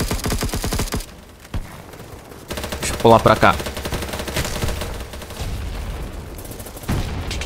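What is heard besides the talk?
gunfire in the video game BattleBit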